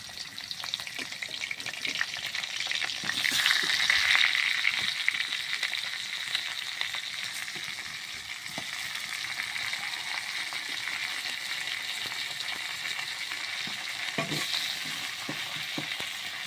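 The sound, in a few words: fish frying in hot oil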